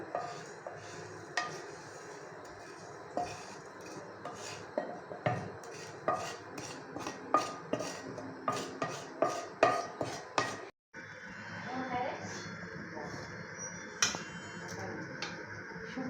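Green mango pounded for homemade pickle with dried chillies, spices and raw garlic: a steady run of sharp, close knocks and crunches, loosely rhythmic, with a brief gap before the pounding resumes.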